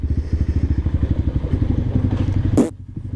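A CSC TT250 motorcycle engine idles with a rapid, throbbing pulse, then gives a short sharp rev blip near the end before settling back down.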